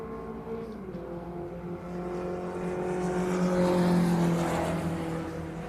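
Historic 750 Formula race car in qualifying on a circuit, its engine note rising as it approaches and sweeps past, loud and sustained with a slight pitch bend, no voices over it.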